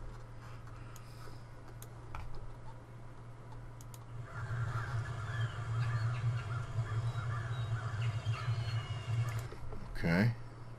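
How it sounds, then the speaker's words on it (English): Outdoor ambience of birds chirping and calling, a steady mix of scattered bird sounds over a constant low hum, growing busier midway. "This is birds."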